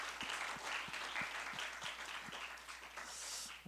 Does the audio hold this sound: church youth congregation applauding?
yes